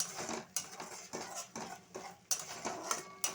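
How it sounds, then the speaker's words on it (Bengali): A spice paste with chilli powder and turmeric is stirred and sautéed in a pan, a spatula scraping and clinking against the metal in a regular rhythm, about one stroke every half second, with faint frying underneath and no talk. "একটু লঙ্কা গুঁড়ো দিয়ে দিলাম, দিয়ে মশলাটা ভালোভাবে কষে নেব"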